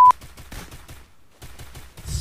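Free Fire gunfire rattles out in two rapid automatic bursts, crisp and fairly close, split by a brief near-silent gap, with no talking over it.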